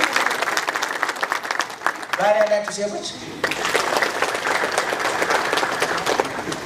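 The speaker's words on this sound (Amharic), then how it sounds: "ቆይ ሚስት ያላችሁ ወንዶች አጨብጭቡ እስኪ።" A church audience at a religious teaching breaks into loud clapping, a brief sung or chanted voice cutting through midway before the close, sharp applause resumes and carries on steadily.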